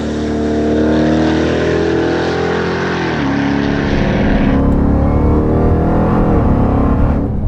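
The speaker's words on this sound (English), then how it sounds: "I like a blower whine, but this thing is a whiner. It whines like crazy." A 1,000 HP Jeep Grand Cherokee daily driver with a supercharger, its engine droning and revving with a strong tonal blower whine that rises and dips, loud and close throughout without talk.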